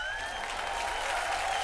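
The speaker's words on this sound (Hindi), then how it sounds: "जोरदार तालियां हो जाएंगे" A studio audience at a comedy show claps loudly and steadily, dense sustained applause with no pauses.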